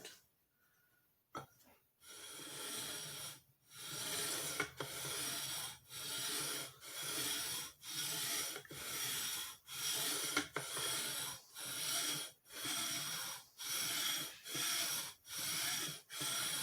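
A file rasps back and forth across the frets of a Fender Road Worn guitar neck during leveling, with long, even strokes repeating about every second, close and steady, with no talking.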